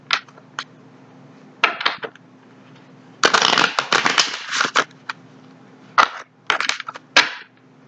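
Tarot cards shuffled by hand in bursts of crisp riffling and flicking, with quiet gaps between, close and fairly loud.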